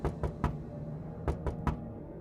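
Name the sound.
knocking on a door, sound effect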